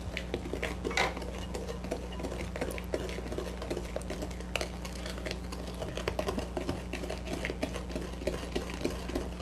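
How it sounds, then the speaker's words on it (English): A spoon stirs vegetable oil and vanilla into carrot muffin batter in a bowl, making soft, quick clinks and scrapes that run continuously over a low steady hum. "Chasing my oil and vanilla around the bowl because it doesn't want to go together with my stuff"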